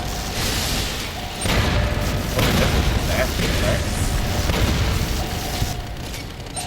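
Gunfire and explosions from the video game Fallout New Vegas ring out near a silo bunker with sentry bots. Dense, continuous booms and bursts fill the clip while someone talks over them.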